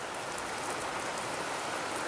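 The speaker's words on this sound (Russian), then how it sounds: "Ливень." Heavy rain downpour pours steadily and loudly outdoors during a thunderstorm, water streaming off a roof, a dense unbroken hiss with no voices.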